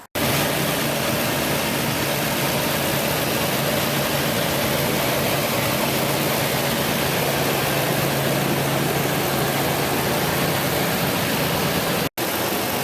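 A Toyota Tundra TRD with a K&N filter on the stock intake drives along, giving a constant loud roar of engine and road noise that holds steady for nearly the whole stretch before a brief cut.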